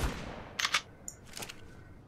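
Gunfire in Ark: Survival Evolved (Primal Fear mod): two quick bursts of shots close together, then a fainter shot and another burst, set against a steady game background.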